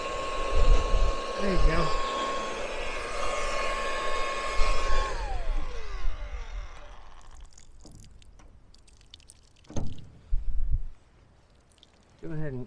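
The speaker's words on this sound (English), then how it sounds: "I'm blow drying this nipple out to get it unthawed because it was frozen solid." A hair dryer blows loudly and steadily on a frozen water nipple during a winter storm, then cuts off; afterward come short bursts of water and handling noise, with a brief spoken remark.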